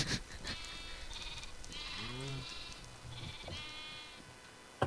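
Sheep in a video game bleat several times, faint and close, with short wavering calls spaced across the stretch over a quiet background hum.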